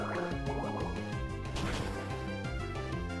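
Bubble attack effect from the Pokémon game Platinum: a dense, continuous burst of bubbly, watery popping and dripping layered over game music, with a brighter splash near the middle, steady and fairly loud throughout.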